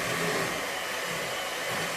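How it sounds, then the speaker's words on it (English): An electric mixer whirs steadily at high speed, creaming butter and sugar for a lemon cake, a close, even motor drone throughout. "When we cream butter and sugar, you can put it at high speed, but cream it until it turns less yellow."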